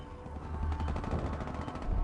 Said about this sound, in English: There's gunshots going off.